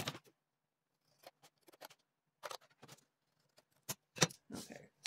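Scissors snip material along measured four-inch marks, giving a handful of short, crisp cuts spaced irregularly across a quiet room, fairly close and moderately loud.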